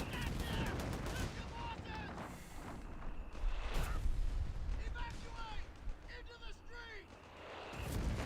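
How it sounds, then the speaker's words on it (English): In the Company of Heroes 3 strategy game, a mortar fires rapidly at a machine-gun position in a house, with repeated sharp blasts and gunfire crackling amid battle noise while a commentator talks over it. "he did get a mortar, and look at it fire quickly at this MG in the house"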